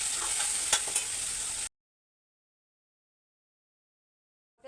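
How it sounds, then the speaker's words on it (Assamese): A ground paste of ginger, garlic, onion and tomato fries in a pan for a curry, giving a steady bright sizzle with stirring scrapes for under two seconds before the sound cuts to silence. "আদা, নহৰু, পিঁয়াজ, বিলাহী এইখিনি পিচি দি দিলোঁ আৰু এইখিনি মই ভালকৈ ভাজি ল'ম"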